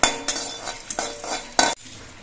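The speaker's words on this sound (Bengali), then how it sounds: "এই মশলাটা ভাজার সময় গ্যাসের ফ্লেমটা কমিয়ে নিতে হবে, আর অনবরত নাড়তে হবে" Spices being stirred as they fry in a pan over a low gas flame, a close scraping and rattling of a utensil against the pan in several uneven strokes over a faint sizzle, with no talk.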